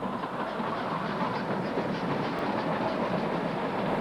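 A steady rumbling steam train, locomotive 3203 working a local passenger service at Terralba in 1970, runs continuously, with a dense rolling roar and faint clatter, no voices.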